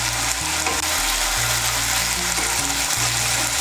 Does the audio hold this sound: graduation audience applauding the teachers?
no